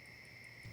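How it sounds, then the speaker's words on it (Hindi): A phone is dialed in a dubbed action movie scene: faint, steady electronic tones hum, then a brief dual-tone keypad beep sounds at the very end of the short clip. "तुम चिंटू को फोन लगाओ"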